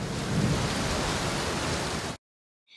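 A storm sound effect of heavy, steady rain with a deep thunder rumble, a loud, dense wash for about two seconds before it cuts off abruptly into silence.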